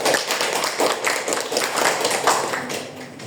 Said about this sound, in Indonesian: Silakan bisa beri tepuk tangan untuk teman kalian yang sudah hadir.